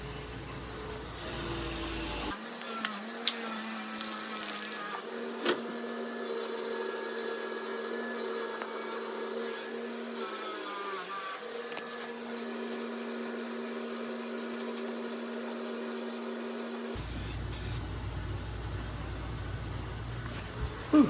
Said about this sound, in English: gonna go ahead and dust this with some self-etch real quick